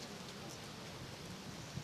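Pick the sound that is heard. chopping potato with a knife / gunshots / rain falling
rain falling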